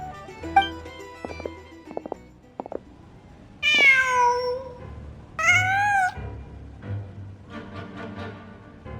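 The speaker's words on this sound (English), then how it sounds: "Just a cat." A cat in the Genshin Impact video game gives two clear, drawn-out meows close by, set among quieter game sounds and faint background music.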